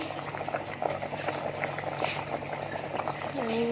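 Close bubbling of bamboo shoot curry boiling in a rice cooker pot, a busy, continuous burble of small pops, with a brief tonal whine near the end.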